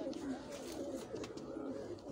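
A prized pet pigeon coos softly on a crowded rooftop in Bagwal, low rolling calls repeating over faint background murmur.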